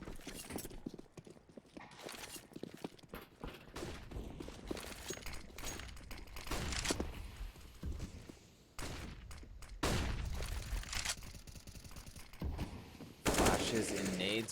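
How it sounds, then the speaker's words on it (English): Counter-Strike match near a ramp, with flashbangs and grenades being thrown: sharp, loud bursts and crackling pops scattered through a busy, continuous din of in-game effects, with several strong blasts near the end. "Flashes and nades being tossed near a ramp here."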